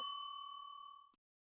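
A single bright bell ding rings out clearly and decays over about a second before cutting off into silence.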